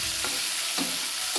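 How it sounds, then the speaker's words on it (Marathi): Prawns frying in a pan give a steady sizzle, with three brief stirring scrapes spaced across it, fairly close and moderately loud, with no talking. "कोलंबी मस्तपैकी भाजतात, चांगली भारी लागते खाण्यासाठी."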